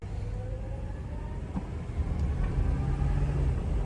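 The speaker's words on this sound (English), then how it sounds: "I love that winding up noise of the transmission." Low rumbling ride in a flood-damaged 1985 Chevy camper van with a steady tonal whine from the transmission that swells slightly as the engine winds up, no talking.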